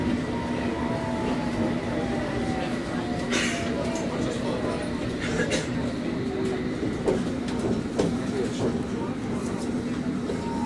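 A London Underground Circle Line train rumbles steadily along the tracks with a constant low drone, squealing wheels and occasional clanks, while a voice speaks over it.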